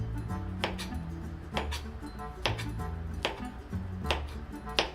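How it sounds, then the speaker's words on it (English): A knife chops a banana into quarter-inch slices on a cutting board in a home kitchen, five or six crisp, close taps spaced about a second apart over a quiet background. "Now we're gonna cut a banana. We're gonna cut them about 1/4 inch"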